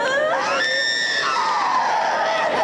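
Screams and shouted cries fill a Pentecostal church deliverance service, with loud, sustained voices rising and overlapping as a crowd yells continuously throughout.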